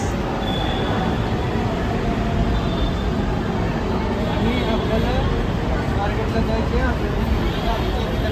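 Loud, continuous rumble of a Pune metro train in motion, with dense low roar and faint squeals of wheels on track, no talk.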